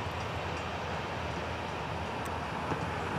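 Florida East Coast Railway train 920 rolling north through a rail junction, a steady broadband rumble of wheels and cars holding at even loudness throughout, with no voices.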